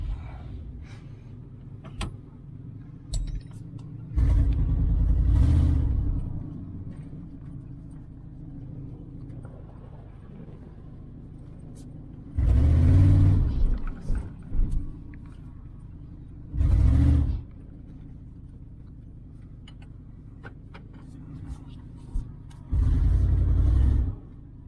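A 1994 GMC Stepside pickup truck engine runs with a low, steady rumble, broken by several louder surging bursts spaced through the stretch, heard up close from the cab.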